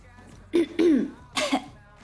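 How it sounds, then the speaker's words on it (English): A person coughing after drinking grainy tea, two or three close, sharp, throaty bursts in quick succession against a quiet background. "It's making me cough"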